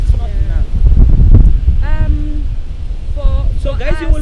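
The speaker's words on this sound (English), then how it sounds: "It's windy. Whatever you hear." Strong outdoor wind buffets the microphone with a loud, low, rumbling roar throughout, while people talk over it in short bursts.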